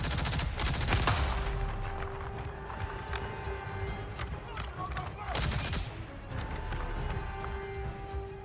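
Gunfire in the video game Avatar Frontiers of Pandora, sharp bursts near the start and around the middle over a steady bed of game ambience and music, with a voice talking over it.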